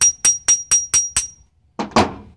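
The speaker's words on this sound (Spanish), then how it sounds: "este es un martillo porque se me facilita más. Usted pone por abajo y va a planchar el remache." Steel hammer flattening a rivet on a damaged car door: six sharp metallic strikes in an even rhythm, then a pause and two heavier, duller blows, close and loud with a faint ringing tone under the first hits.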